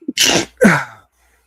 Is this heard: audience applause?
no